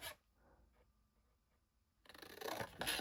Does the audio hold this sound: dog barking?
no